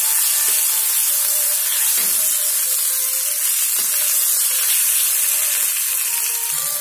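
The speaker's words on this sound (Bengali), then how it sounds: "দেখো আমাদের কিন্তু মশলাটা কষানো হচ্ছে" A ground paste of cumin, ginger and garlic frying in a pan gives a constant, close, loud hiss of sizzling oil with a few faint spoon knocks and no voices.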